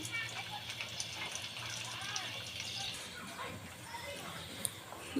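Juice squeezed from crushed onion, amla and ginger is poured into oil for a homemade hair oil, giving a steady, close liquid gush and splash that runs for several seconds over low background noise and faint voice-like sound.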